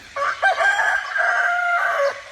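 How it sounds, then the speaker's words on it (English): A cockerel crows once in the morning, a loud, close, drawn-out cock-a-doodle-doo standing alone against a quiet background. "you can hear it's morning from the cockerel"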